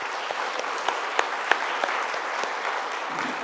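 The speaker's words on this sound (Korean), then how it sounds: "우리 박수로 감사를 드릴까요?" Church revival meeting audience applauding in thanks, a steady wash of many hands clapping with a few sharper individual claps standing out, moderately loud and continuous throughout.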